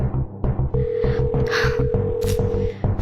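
A phone call goes unanswered as a steady ringing tone sounds for about two seconds, moderately loud over a pulsing, throbbing low background beat, with no one speaking.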